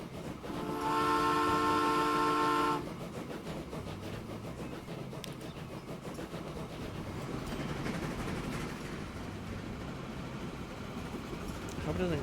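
A locomotive in the Transport Fever 2 game gives a loud, sustained whistle near the start, followed by a steady rumble of the train running, with a voice talking over it.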